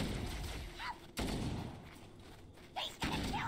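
Gunfire in Halo: Combat Evolved, heavy sharp bursts separated by quieter gaps, each onset abrupt and loud over a rumbling battle backdrop.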